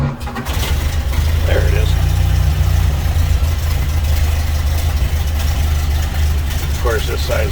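A 1930 Ford Model AA truck engine turns over and fires up indoors, settling into a loud, steady low rumbling idle, with a short spoken remark partway through.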